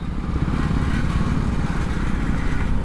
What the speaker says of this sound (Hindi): बाइक का भाई साइलेंसर का जो कवर है ना वो बहुत आवाज़ कर रहा है